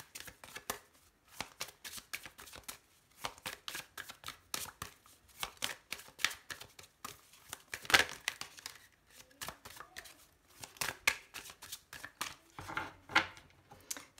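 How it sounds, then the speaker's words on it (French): Deck of tarot cards being cut and shuffled by hand, a long run of quick soft riffling clicks and flicks in bursts, close and fairly quiet. "Je vais faire une coupe."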